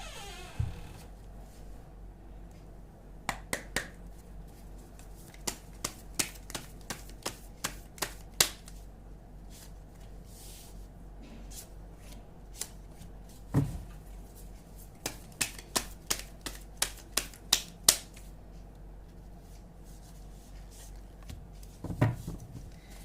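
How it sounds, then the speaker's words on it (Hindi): Tarot cards drawn one by one from a deck, a quiet room carrying a string of soft, sharp card flicks and slaps in irregular clusters, close and faint. "चलिए लव के 4 कार्ड्स निकालते हैं।"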